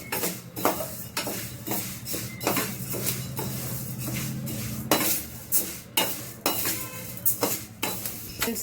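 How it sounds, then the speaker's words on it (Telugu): Barley grains dry-roasted in a pan over a medium flame, with repeated metallic scrapes and clinks of a spoon stirring against the pan in an uneven rhythm, plus a soft rattling of grains throughout. "ఇలా వేయించుకోవాలి బార్లీ గింజలని"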